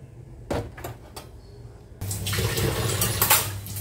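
Water splashes and dishes clatter as milk pots are scrubbed and washed by hand at a sink, a few sharp knocks at first, then a steady louder gush of running water with scraping underneath.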